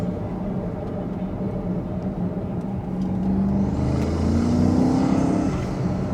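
Deep, steady engine roar close to the intakes of a BMW X5 M SUV, rising in pitch and loudness as it accelerates, with a whooshing intake rush.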